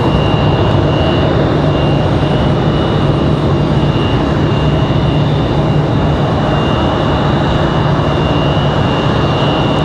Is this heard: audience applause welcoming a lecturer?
no